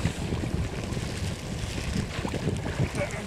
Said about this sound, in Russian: Снова ветер дует прямо в борт!